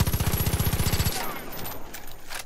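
Gunfire in Far Cry 5, a rapid burst of about a dozen sharp shots close by, followed by fading reverberant noise.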